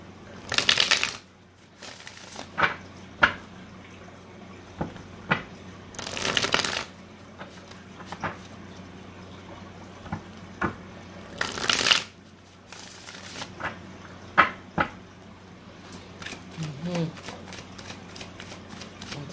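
Tarot cards being shuffled in several loud bursts of riffling and slapping, separated by quieter shuffling and soft card handling, with brief talk between.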